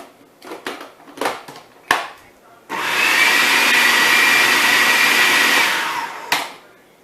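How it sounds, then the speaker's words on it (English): A blender whirs loudly for about three and a half seconds, mixing raw nut pâté seasoned with cumin, preceded by a few short knocks and clatters and ending with a final tap. "And I'm just going to mix that one time."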